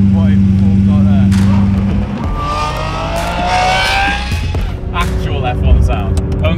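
A car engine revs hard while accelerating onto a motorway, climbing in pitch through the gears with a shift partway through, loud and close inside the car, with someone talking over it.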